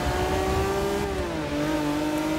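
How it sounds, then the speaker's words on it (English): Race car engines in the Forza Motorsport 6 video game drone at steady high revs, a continuous loud engine tone with a slight pitch drop midway, no talking over it. "Car's behind me."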